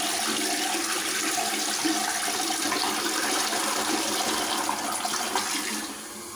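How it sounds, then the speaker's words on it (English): A toilet flushes with a Jenga block in the bowl, a loud, continuous rushing and swirling of water that holds steady for about six seconds and then drains off, with no talking over it. "this toilet can flush an entire Jenga block."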